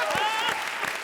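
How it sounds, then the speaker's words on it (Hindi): Loud, dense applause from a crowd, steady throughout the short burst, with a faint voice or cheer rising over the clapping. "जोरदार तालियां।"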